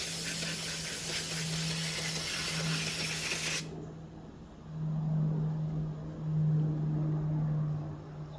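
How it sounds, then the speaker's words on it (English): Brake cleaner sprays in a steady broadband hiss onto a dirty Craftsman push mower carburetor for several seconds, then cuts off abruptly, leaving a quieter workshop background with a low hum. "I am going to use some brake cleaner to clean the exterior of the carburetor."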